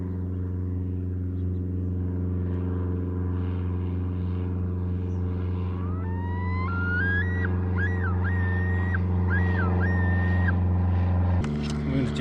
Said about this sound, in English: Loons do that call when there's a plane or an eagle.